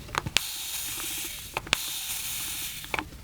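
Spray bottle misting purple watercolor onto a handmade toilet paper rose, three short sharp hissing bursts spaced about a second apart, close and fairly quiet with near silence between.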